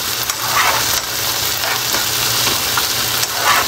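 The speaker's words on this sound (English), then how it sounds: "they use some sofrito, their green seasoning, which they call sofrito. Mine's is just some green seasoning. And then I'm just going to let that just cook for a little bit." Green seasoning sofrito cooks in a pan at home with a loud, steady hiss of frying that fills the clip, with a few faint stirring scrapes and no voices over it.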